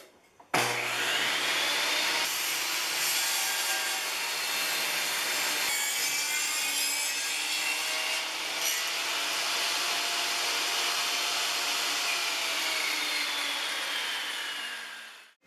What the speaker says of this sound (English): So now we can take it over to the table saw, start the cut, and hope for the best.